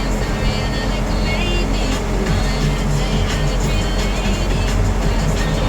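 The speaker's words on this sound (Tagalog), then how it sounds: "Traffic." Road traffic in the rain gives a steady, loud, broadband rumble of engines and wet road noise that continues without a break, with faint talk underneath.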